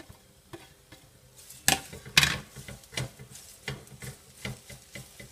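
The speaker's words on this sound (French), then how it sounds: "Dans notre poêle à côté sauteuse, on va mettre notre chou, sans rien aussi, pas de matière grasse." Coarsely cut cabbage cooks in a dry sauté pan with no fat, making a soft, patchy sizzle broken by a few sharp clatters and scraping knocks as it is stirred.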